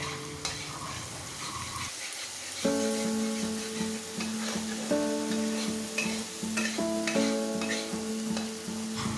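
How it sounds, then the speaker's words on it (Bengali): Chili and tomato paste masala sizzles in hot oil while being stir-fried. A steady close frying hiss runs under repeated scraping strokes of a spatula against the pan. "এর মধ্যে দিয়ে সুন্দর করে আবারও মশলাটাকে আমি ভালোভাবে নেড়ে নেড়ে কষিয়ে নেব যতক্ষণ না তার চারপাশ দিয়ে তেল বেরিয়ে আসছে"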